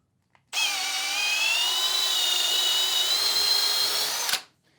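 Milwaukee hammer drill boring with a drill bit, a loud steady whine with rising harmonic tones that runs without a break for about four seconds, then cuts off sharply, with no voices.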